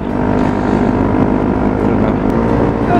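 A Honda CRF250L motorcycle cruising at about 60, with a loud, steady engine drone and wind rush running unbroken throughout and no talking.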